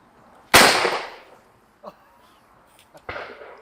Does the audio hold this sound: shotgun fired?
yes